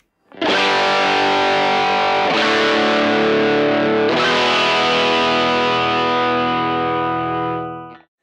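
Distorted electric guitar played through a Radial JDX Direct Drive pedal set to 4x12 voicing, with three big strummed chords that sustain and slowly decay, loud and up close with no voices.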